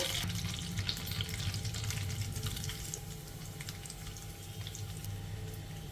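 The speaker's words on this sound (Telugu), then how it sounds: "ఈ పచ్చి కొబ్బరిని మనం మీడియం ఫ్లేమ్లో ఇలా కలుపుకుంటూ ఒక రెండు నిమిషాలు ఫ్రై చేసేసుకోవాలండి" Ground fresh coconut fries in a pan over a medium flame with a steady soft sizzle, occasional scraping from stirring.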